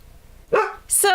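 A dog gives two short, loud barks close by, spaced about half a second apart, over a quiet low background hum.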